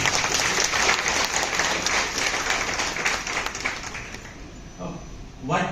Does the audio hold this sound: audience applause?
yes